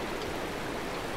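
Waterfall in the Far Cry 4 video game: a steady, even rush of falling water, broadband and constant throughout, with no voices.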